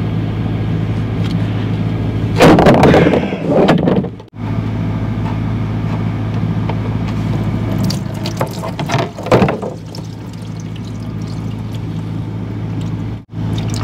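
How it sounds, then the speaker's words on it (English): Hot, thin engine oil drains from a 1960 Chevrolet Impala that sat for 32 years, giving a steady loud splashing gush into a pan with a few sharper surges and brief pauses, and no talk. "Now that the oil is nice and hot, I'm going to drain it."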